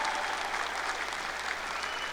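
A large audience at the Randolph Community College 2025 commencement ceremony claps steadily for the Asheboro High School Air Force Junior ROTC, a dense, even wash of hand claps from a full hall with no voices.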